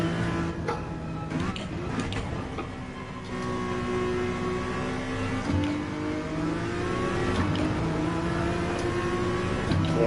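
A car engine revs and pulls steadily while coasting downhill during a casual track outing, with harmonic engine tones rising and falling continuously over roughly ten seconds, fairly close and constant in level.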